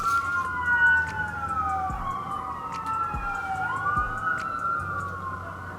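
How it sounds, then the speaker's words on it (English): Emergency vehicle sirens wail through downtown Calgary, several overlapping rising and falling tones sweeping steadily across the whole stretch, moderately loud and a little distant over low city traffic rumble. "There is sirens again."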